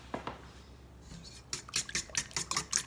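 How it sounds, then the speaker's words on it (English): Eggs and salt are whisked briskly in a bowl for homemade egg noodles, with a few clinks at first, then a run of quick, regular metallic scrapes and taps close by. "I'm just going to get these whipped up pretty good"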